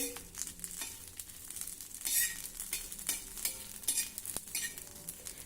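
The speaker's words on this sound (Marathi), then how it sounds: "मिरचीवर थोडं तेल घालू आणि या मिरच्या छान भाजून घेऊ" Green chillies roast in oil for a village-style dry kharda brinjal dish, giving a steady close sizzle with scraping stir strokes throughout, no voices.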